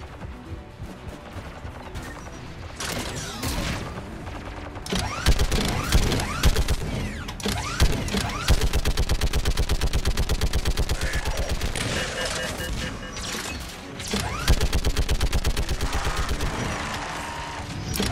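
A gas turret in Mass Effect 3 fires long, rapid mechanical bursts of gunfire, loud and close, with a few short pauses and combat sounds between volleys.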